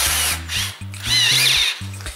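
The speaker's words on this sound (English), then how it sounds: "Make sure your driver is in reverse, and now you just take it and slowly drill that puppy out." Cordless power drill driver running in reverse to back a screw out: the motor whirs in bursts, stopping and restarting about five times, with a ratcheting mechanical buzz and a high whine, close and loud, with no talk.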